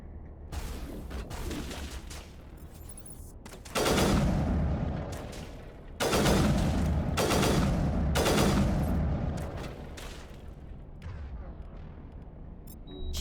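Heavy gunfire in Call of Duty: Vanguard, a steady roar of shots swelling into several loud, dense bursts with brief lulls between them, sustained over about thirteen seconds with no talking.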